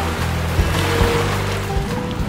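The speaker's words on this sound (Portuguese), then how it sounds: "Esse som aí da água batendo tem uma explicação." Water sloshes and splashes against the hull of a ship approaching New York harbour, a loud, continuous washing rush with a low rumble and a few heavier slaps, no voices.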